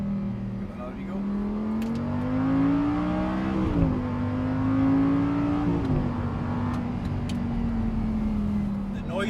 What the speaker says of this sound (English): The noise out of the exhaust when you're pulling the changes as well